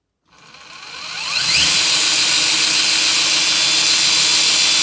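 A Toolkit WM150 motor ramps up from silence to a steady, loud, high-pitched whine as it runs in second gear, holding a constant tone with no voices.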